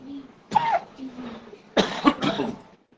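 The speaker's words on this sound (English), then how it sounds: "And everybody coughing and saying," Two bursts of harsh coughing, a short one and then a longer, louder fit, with faint throat noises in between.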